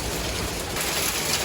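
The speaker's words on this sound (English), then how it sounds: "this hail has been going off for the last 30 minutes on and off" Hail falls steadily on and off outdoors, a dense, continuous broadband patter that stays loud and even and has no talk over it.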